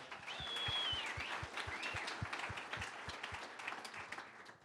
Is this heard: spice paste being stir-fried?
no